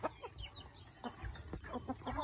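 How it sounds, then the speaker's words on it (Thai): A chicken clucks in short, irregular bursts, fairly faint and a little distant, against a quiet outdoor background. "สัตว์ชนิดแรกนะคะก็จะเป็นไก่บ้านนะค่ะ"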